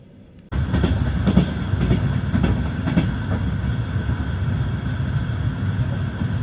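Inside a moving passenger train carriage in Kazakhstan, a loud steady rumble sets in abruptly and continues, with rhythmic wheel clatter and occasional rattles over the constant low roar.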